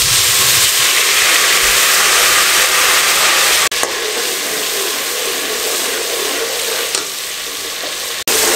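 Garlic ginger paste fries in ghee for beef haleem, a loud, dense and constant sizzle close up, broken by two brief clicks.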